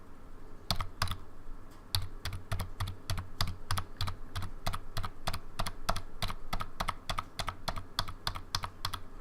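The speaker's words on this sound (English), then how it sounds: "what I'm going to press now is a known good key" A known good key on a computer keyboard held up to a microphone is pressed repeatedly, giving about thirty crisp, evenly spaced clicks in a steady rhythm, close and clear with no talk.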